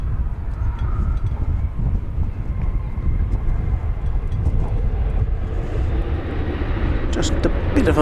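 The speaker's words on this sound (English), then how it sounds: "Just a bit of a bounce on that landing of American Flight 1809 from San Diego, California." An American airliner, Flight 1809 from San Diego, lands at DFW Airport with a heavy, steady low engine roar and rumble, and higher whines near the end.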